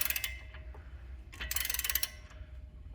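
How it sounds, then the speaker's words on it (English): A wrench snugs a newly installed lug stud on a wheel hub in an automotive shop, giving quick ratcheting clicks in two short bursts over a low steady hum, at moderate level and with no talk. "And Ben, you're going to get to a point to where it stops, okay, and then you just give it a snug"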